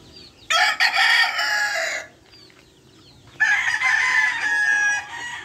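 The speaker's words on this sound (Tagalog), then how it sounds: "Ito po ang mga manok nila." A rooster crows twice in a backyard flock beside a creek, loud and close, each call lasting over a second with a short quiet gap between them.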